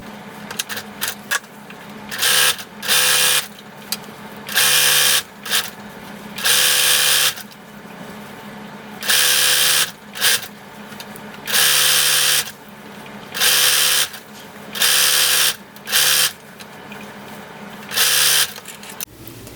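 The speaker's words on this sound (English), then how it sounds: "Now I'm going to sew down the center of the elastic with a zigzag stitch to hold the 2 layers together" A sewing machine zigzag-stitches down the center of stretched elastic on T-shirt fabric, running in repeated loud bursts of rapid needle chatter separated by short pauses, close and without talk.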